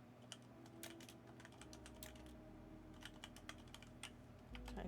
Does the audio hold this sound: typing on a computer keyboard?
yes